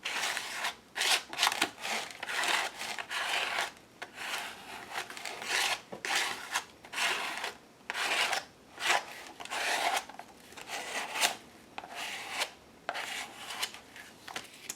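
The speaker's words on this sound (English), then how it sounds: "Bring my sandpaper in, grunge it up a little bit." Sandpaper is rubbed over paper to distress an altered book page, giving rhythmic, close, raspy scraping strokes in quick bursts with brief pauses between them and no talk.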